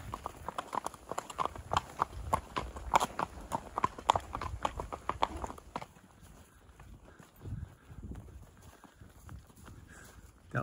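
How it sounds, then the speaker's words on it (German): A large horse walks under a rider on a trail above Lake Balaton in Hungary, its hooves clip-clopping in a steady close rhythm that softens and thins out toward the end. "Wir sind immer noch am Reiten und es macht Spaß."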